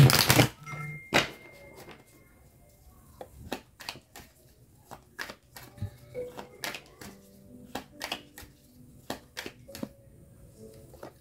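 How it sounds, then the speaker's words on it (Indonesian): Tarot cards shuffled and drawn by hand in a close, quiet setting: a dense burst of riffling at the start, then a long run of crisp, separate card snaps and flicks spaced unevenly as cards are pulled and laid down. "sekarang aku tarik energinya lagi dengan ini ya, kartu Drupadi"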